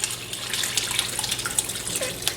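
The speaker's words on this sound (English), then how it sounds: "I just take my brine and pour it right into the bag" Brine is poured into a bag holding raw chicken, giving a close, continuous gurgling pour with small irregular splashes and drips, moderately loud, with no voices.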